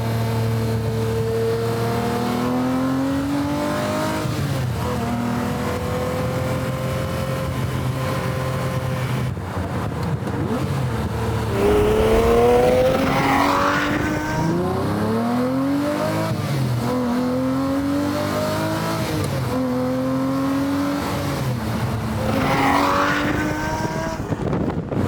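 A Lamborghini Murciélago, just converted to a manual gearbox, revs hard through several climbing and falling sweeps before pulling away. The engine is loud and close, with rising pitch as it accelerates into the distance.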